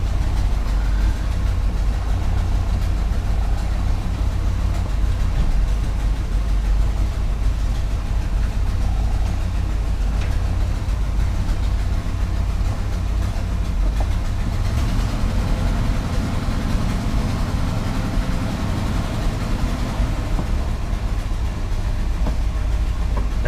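A 1981 Chevy C30 dually truck with an exhaust leak runs at a steady idle, a loud, continuous low rumble close by with no talking.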